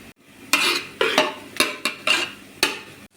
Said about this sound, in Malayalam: ഇനി ഇതിലേക്ക് വേവിച്ചെടുത്ത ബാർലി ഇട്ട് കൊടുക്കാം. നന്നായിട്ട് ഇളക്കി കൊടുക്കാം.